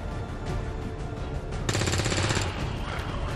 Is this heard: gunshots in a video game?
yes